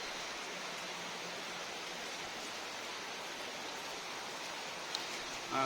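Steady broadband rush of the Mahanadi river's water in rainy weather, a continuous even wash with no voices and a small bump near the end.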